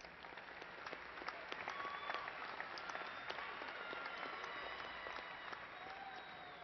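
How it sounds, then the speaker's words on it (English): Applause for a group of graduates at Angelo State University's fall commencement ceremony: steady, fairly faint clapping from a large crowd that carries on evenly throughout, heard from a distance. "A round of applause for this group of graduates."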